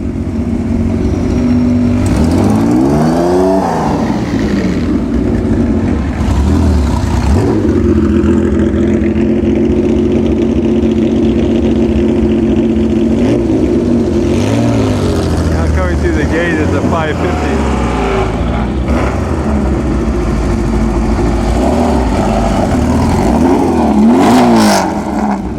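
Classic Porsche sports cars, among them a 550 Spider, arrive in a group with a Highway Patrol escort. Their engines rev and rumble continuously, passing loud and close, with a voice talking over them.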